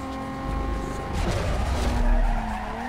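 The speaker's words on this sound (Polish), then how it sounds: "jak to driftuje" A car drifting in Need for Speed Most Wanted (2005), with a sustained tire squeal rising over the revving engine, loud and close, no talk.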